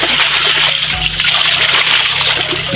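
Water splashes and sloshes as a well is bailed out in a rural province, with steady close splatter and trickling, a faint hum in the background.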